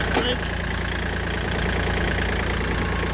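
Kubota tractor engine idling steadily in neutral, a continuous close rumble with a brief click near the start and a voice faintly over it.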